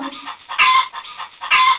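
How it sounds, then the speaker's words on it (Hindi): A rooster crows loudly twice in quick succession, each call a strained, ringing cry with short gaps between. "मुर्गा खुश होकर जोर से बोला।"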